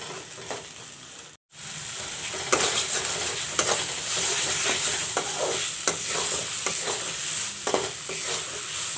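Masala with turmeric frying in a pan while a spoon stirs it, a steady bright sizzle broken by repeated scraping strokes and one brief silent gap, close and fairly loud with no talking.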